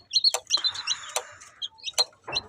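Newly hatched chicks from an incubator peep in rapid high-pitched chirps, several overlapping calls close by, with some brief rustling and clatter mixed in.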